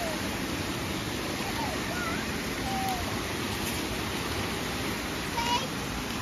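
Creek water flows steadily on private rural land, heard up close as a dense, even hiss and rush that never lets up, with a few faint bird chirps above it.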